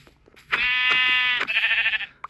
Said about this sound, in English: Oh, 3 brown sheep.